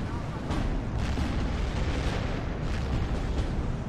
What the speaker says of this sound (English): Currently firing at the infantry that's retreating across the open there.